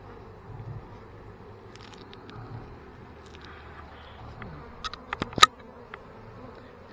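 Honeybees buzzing at an open hive during a queen check, a faint steady drone with a few louder passes close by, over a quiet outdoor background and no talk.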